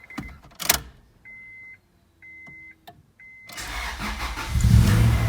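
After a month unused with a weak battery, a car chimes several times with steady beeps, then its engine cranks and catches into a loud, close idle rumble.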